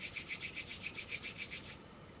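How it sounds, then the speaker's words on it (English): Hands rubbing together briskly, a soft rhythmic swishing of skin on skin repeated about ten times in quick, even strokes, close and quiet, then trailing off. "so rub my hands together here"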